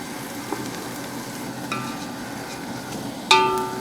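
Onions and whole green chillies fry in a pot for a veg brinji biryani, giving a steady soft sizzle throughout, with a few faint utensil clinks and a sharper metallic clatter near the end.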